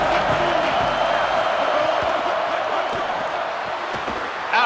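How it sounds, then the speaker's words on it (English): Steady stadium crowd roar from a college football video game fills the whole stretch at an even, loud level, with a brief louder swell of cheering right at the end. "This crowd ready to make its presence known"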